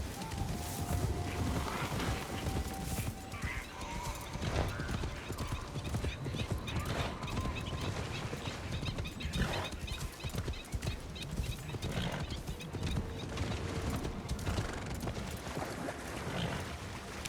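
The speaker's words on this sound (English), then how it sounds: "Come on, horsey, you can do it. It's actually swimming." Horse swimming in the video game Assassin's Creed Shadows: continuous dense splashing and hoofbeat-like clatter with occasional whinnies, steady and loud throughout, blended with game ambience and faint tones.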